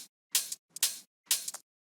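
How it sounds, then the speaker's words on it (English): A tech house drum loop with its transient processors switched off plays three bright, splashy hits with longer tails and small trailing ticks. The sound is close and dry, with no talking. "But if I turn it off, it will sound like this."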